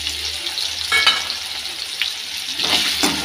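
Potato pieces seasoned with turmeric and salt fry in a pan, a steady close sizzle broken by a few scraping stirs.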